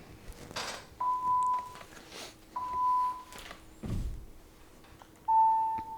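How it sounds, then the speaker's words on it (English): Electronic training beeps cue squat-and-jump drills at a volleyball coaching session: three clear, steady tones spaced about two seconds apart, with soft thuds of movement and a quiet room between them. "first beep, go down,"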